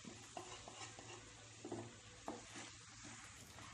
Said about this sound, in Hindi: टमाटर अच्छे से सॉफ्ट होने तक हम इसे भूनेंगे।